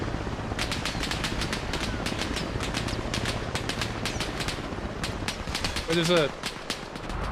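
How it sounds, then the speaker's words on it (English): Rapid bursts of machine-gun fire from a hillside position in a jeep simulator game, repeated sharp volleys across the whole stretch, with a brief voice speaking near the end. "It's an MG up on this hillside."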